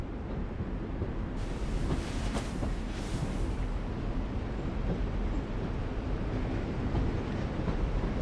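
A train in The Walking Dead: The Final Season video game rumbles with a loud, steady low roar and faint rhythmic rattling, continuous throughout.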